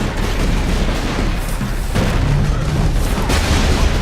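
Rocket blasts in the Warhammer 40,000: Space Marine video game boom continuously and loudly over a dense rumbling battle bed, with enemies firing rockets in rapid succession.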